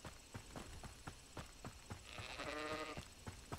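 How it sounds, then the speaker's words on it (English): Sheep bleat in the video game Hogwarts Legacy, a wavering call rising out of a steady clip-clop of hooves and background game sounds in the middle of the clip. "Ooh, sheep. I hear."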